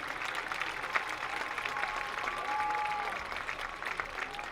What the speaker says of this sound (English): how about a big round of applause for our 2025 Homecoming Court?